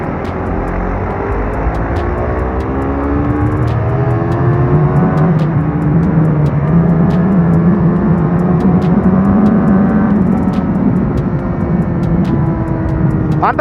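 A manual motorcycle running on Castrol Ultimate oil revs up under acceleration while riding, its loud, close engine note rising and falling through the gears beneath steady wind rush.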